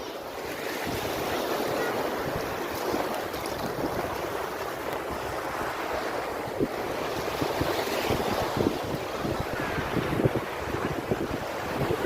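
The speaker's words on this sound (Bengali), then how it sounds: "বড় একটা ঢেউ এসে আমাকেও ভিজিয়ে দিল।" Sea waves and a strong current on a rocky beach at Visakhapatnam, a continuous loud wash of surf with heavy wind buffeting the microphone and no clear voices.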